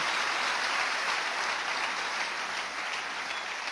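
A church congregation claps during a worship service, producing dense, continuous applause that fills the space evenly with no pauses.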